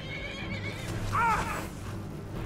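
A horse neighs once, a clear, loud whinny rising and falling over a steady low background rumble.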